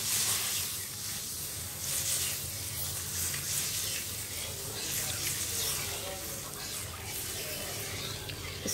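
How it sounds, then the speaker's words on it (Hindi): Water pours into a finely ground masala gravy for an eggless, onion-free anda curry, giving a steady hiss and gurgle that runs throughout at moderate level, close and continuous. "ये देखिए इसमें हम अब पानी ऐड करते हैं।"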